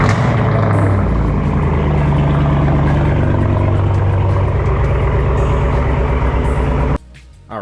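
A Camaro engine, freshly refilled with coolant after replacement of its cooling fans, temperature sensor and thermostat, runs loud and steady at a close idle, with a rough abrupt drop near the end.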